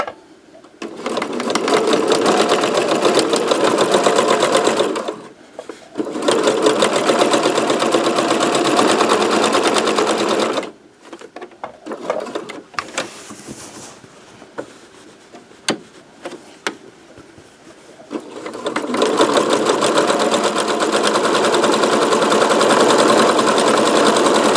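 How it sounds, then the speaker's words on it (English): A sewing machine stitching a French seam runs in long steady bursts of rapid whirring, stopping for a quiet stretch of small handling clicks and taps before starting up again, no talk. "I'm going to sew 2 sides since I have it on the fold"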